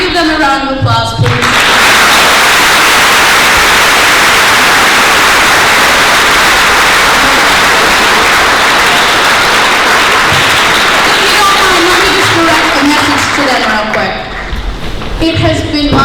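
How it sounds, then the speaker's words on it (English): Loud, sustained audience applause with cheering at a high school last-lecture event, filling about twelve seconds before fading, with a little talk at the start and end. "Can you give them a round of applause, please?"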